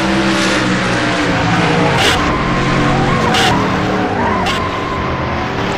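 A race car crash at the Shiny Wax 400 at Michigan International Speedway involving the 41 and 21 cars, with loud sustained tire skidding and engine roar plus a few sharp impact bursts, no talking.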